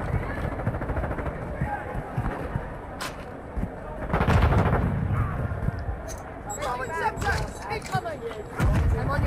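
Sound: gunfire from a gun in Call of Duty video game

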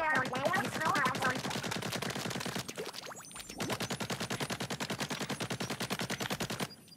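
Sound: shooting at enemy in video game Splatoon 3

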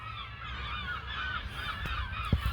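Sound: bird calling, likely a young goose

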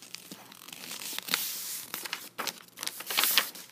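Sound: folding paper to make a paper airplane

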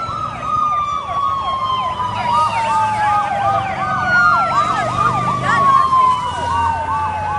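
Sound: ambulance siren approaching

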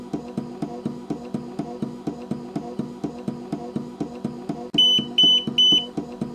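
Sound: portable driver missing battery alarm

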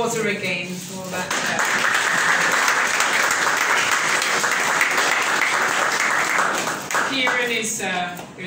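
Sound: applause

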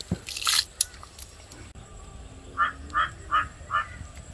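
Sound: fish gravy boiling in clay pot

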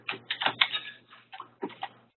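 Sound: typing a website address on a computer keyboard

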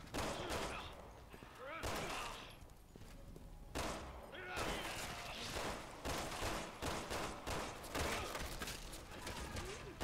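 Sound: gunfire in video game Resident Evil 6

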